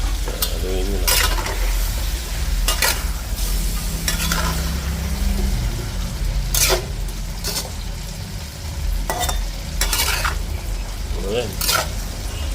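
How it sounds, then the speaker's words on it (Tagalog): A utensil stirs chopped squash and string beans frying in a pan, with repeated scraping clacks over a continuous close sizzle; a voice briefly murmurs in the middle. "Haluin mo lang."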